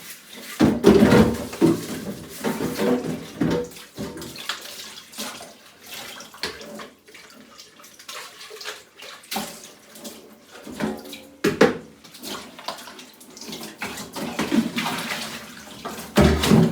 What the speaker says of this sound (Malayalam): കുറച്ച് പാത്രം കേട്ടോ കഴുകാൻ മതി.